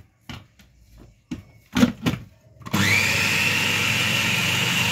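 An electric mixer or blender starts up to beat oil and water into a batter, running loud and steady after a few knocks and clatters of setting up, close by with no speech.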